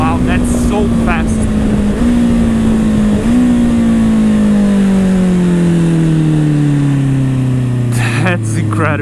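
A Honda CBR650R motorcycle accelerates hard, its loud engine tone climbing steadily through the gears with brief shift breaks, close and continuous throughout.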